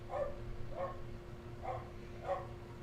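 A Chihuahua gives four short, sharp yaps at an even pace, fairly close, over a low steady hum.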